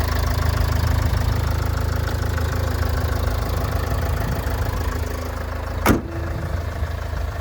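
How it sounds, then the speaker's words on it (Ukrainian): A 2010 Opel Vivaro van's 2.5-litre engine idles steadily with a low, even rumble and faint knocking, broken by one brief sharp click near the end. "Я думаю, що по мотору тут чути, як він просто"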